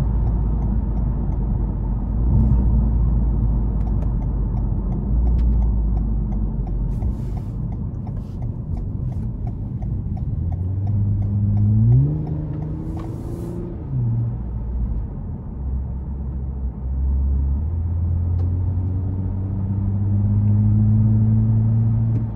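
A 2021 Toyota Camry TRD with a 3.5 V6 drives along, its engine a low steady rumble that swells into a rising rev midway, then settles back into cruising drone with road noise.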